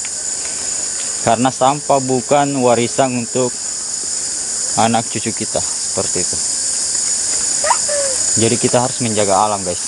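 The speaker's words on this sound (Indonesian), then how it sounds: "Nah, Anda bisa dengar suara-suara jangkrik atau suara apa itu ya?" Dense, steady chirping of crickets fills the background in a cave area with bushes, loud and continuous, while someone talks over it in bursts.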